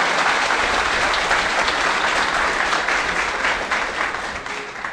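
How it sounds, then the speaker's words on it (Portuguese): An audience at a conference applauds steadily, a dense wash of clapping hands that holds strong throughout and eases off slightly at the very end. "Uma salva de palmas para o nosso aniversariante."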